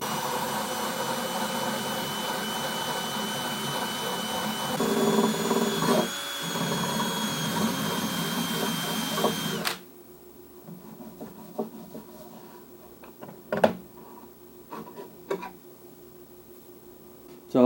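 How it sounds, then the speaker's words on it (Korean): A Dremel rotary tool lightly grinding the back edge of a Togo Rei steel blade, a loud steady high whine for about ten seconds, then it stops, leaving quieter scraping, handling clicks and knocks. "드레멜로 뒷날 오라 부분을 살짝만 갈아냈습니다"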